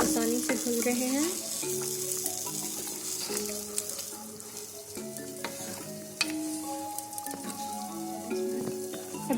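Lamb karahi with tomatoes cooks in a pan, giving a steady sizzling hiss with occasional stirring scrapes, under continuous background music.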